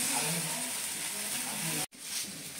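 Fish fries in a thin layer of oil on a flat tawa, giving a steady, close, broadband sizzle that drops out for a split second before resuming.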